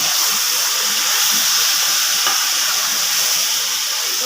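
Chicken pieces cooking in hot oil in a pot for chicken dum biryani give off a loud, steady hiss and sizzle. No voices are heard.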